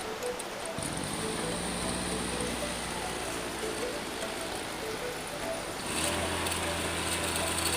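A homemade brush cutter fitted with a chain attachment runs steadily, a continuous small-engine drone with whining harmonics that shifts and grows slightly louder toward the end.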